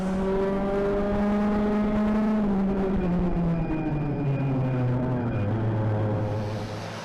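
Club100 heavyweight sprint racing karts at Bayford Meadows in a 2008 championship final scream past on the track, several high-revving engines whining loudly and close. Their pitch drops as they pass and fade.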